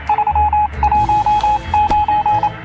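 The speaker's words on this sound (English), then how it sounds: "That sounds like a radio signal." Morse code radio signal in the video game 60 Seconds Reatomized, a run of crisp, loud beeps of varying length tapped out in quick irregular groups over a faint low hum, with a brief click partway through.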